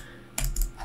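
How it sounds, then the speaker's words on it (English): Typing on a computer keyboard while working in a terminal: a few quick, close clicks and clatters of keys in a short burst, with no talking. "I'm just typing clear"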